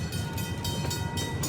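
The Irvine Park Railroad train runs along its track with a steady, loud rumble and faint rhythmic clatter, heard from on board in an unbroken stretch.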